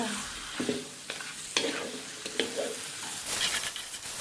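Duck meat stir-fried in a wok, with a steady sizzle of frying under repeated scraping, stirring strokes from a spatula, fairly close and moderately loud.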